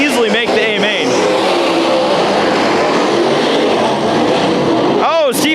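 Race cars roaring around Bakersfield Speedway during a heat race at the Budweiser Nationals, loud continuous engine noise with cars sweeping past, Doppler whines rising and falling at the start and end, with an announcer talking over it.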